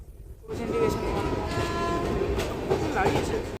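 A Jalpaiguri Road–Sealdah Humsafar Express inaugural special rumbles close by at Aluabari Road Junction station, a long, sustained horn blaring over the clatter, starting abruptly after a brief quiet moment.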